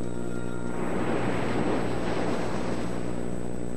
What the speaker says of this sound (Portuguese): Quando o problema é a força das ondas